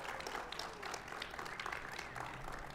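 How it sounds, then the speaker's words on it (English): Guests at a charity gala applaud, a soft, distant patter of many hands clapping steadily throughout, quiet and evenly spread. "Let's give another round of applause to Chunyan"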